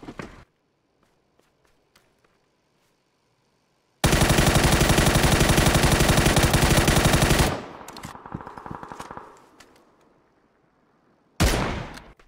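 A sustained, loud automatic gunfire spray in PUBG, a dense unbroken burst of several seconds that cuts off abruptly, with a shorter burst near the end and quiet gaps around it.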